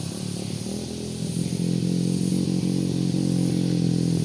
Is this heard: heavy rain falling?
no